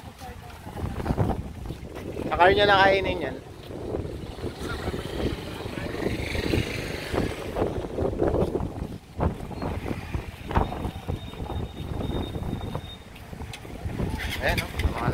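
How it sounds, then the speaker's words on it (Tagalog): Strong wind blows by the sea along a coastal road in La Paz, buffeting the microphone in a continuous rushing roar while people talk over it nearby. "Lakas ng hangin."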